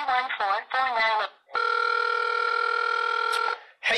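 A phone call being placed: a brief voice prompt gives way to a steady, clean electronic line tone lasting about two seconds, close and loud, before the voice returns.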